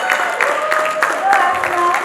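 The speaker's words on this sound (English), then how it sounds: "With a round of applause, I think we can do better." Audience applause at a nonprofit summit welcoming the co-chair: a short burst of scattered clapping, fairly close and loud, with voices audible over it.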